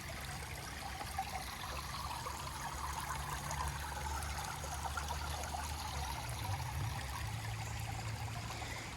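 Water trickles and gurgles steadily through a small pond stream looping around the back of a property, a continuous close babbling with no voices.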